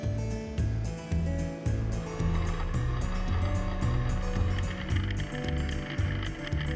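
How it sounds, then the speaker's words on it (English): A top lifter harvester pulling carrots from the soil gives a loud, close mechanical clatter with regular rhythmic clicking and rattling over a low rumbling drive, continuous throughout with no talking. "a machine like this one, called a top lifter harvester, lifts them out of the soil."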